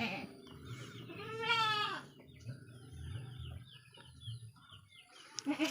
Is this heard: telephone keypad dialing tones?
no